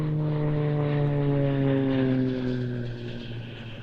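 A single-engine Extra 300 aerobatic aeroplane flies at an airshow, its propeller drone loud and steady, with descending harmonic pitch as it passes and recedes, fading slightly toward the end.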